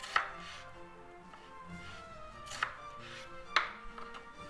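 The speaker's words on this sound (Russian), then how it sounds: "Лук разрезаю пополам, режу на тонкие полосочки." Knife cutting a halved onion into thin strips on a board: a few sharp, separate chops spaced about a second apart, close and fairly quiet, no talking.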